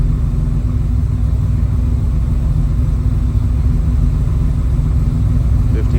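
A GMC Typhoon engine idles roughly after a new idle air control valve install, a steady close low rumble that holds throughout without clear revving.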